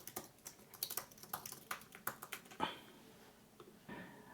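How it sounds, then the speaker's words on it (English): Quick, light keystrokes of a Wi-Fi password being typed on a keyboard, close and fairly quiet, in short bursts with a brief pause near the end. "You want to select your Wi-Fi network and type in the password."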